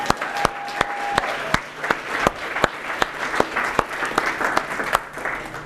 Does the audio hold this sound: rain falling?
no